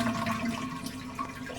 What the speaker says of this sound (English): let's flush it so we remove most of the water in the tank.